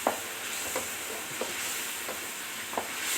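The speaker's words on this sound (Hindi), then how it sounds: "मसाला हमारा भून रहा है माशाल्लाह।" Mutton korma masala frying in a pot, with a soft continuous sizzle and a series of regular scraping strokes about every two thirds of a second as it is stirred, fairly quiet and close.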